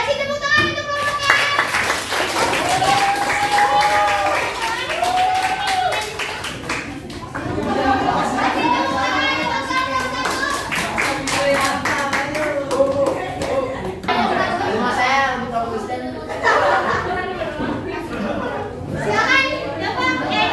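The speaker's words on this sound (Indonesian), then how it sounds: "kasih tepuk tangan untuk kelompoknya" Children in a classroom clap for a student group, with scattered, uneven clapping mixed with lively kids' chatter and voices throughout.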